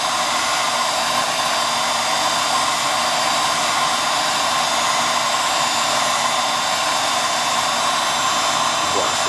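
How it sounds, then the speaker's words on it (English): An industrial heat gun blowing hot air during granite chip repair, a loud, steady close-up whooshing roar that holds unbroken for the whole stretch, with no talking. "This is an industrial heat gun, so it gets pretty hot."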